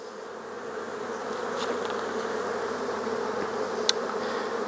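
Honey bees hum in a dense, continuous drone around an open hive full of brood and nectar frames, close and steady, with a few brief clicks from handling.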